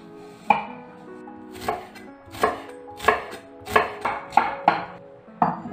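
A knife chops an onion into strips on a cutting board, about eight to ten crisp, close strikes in an uneven rhythm with brief pauses between them.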